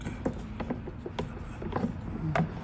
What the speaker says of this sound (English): Now push in on the wall connector while you're screwing it